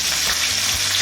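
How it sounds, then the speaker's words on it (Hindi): Sliced onion frying in oil for a Punjabi kadhi pakora tadka, a dense, continuous close sizzle with no voices. "प्याज फ्राई हो रहे हैं"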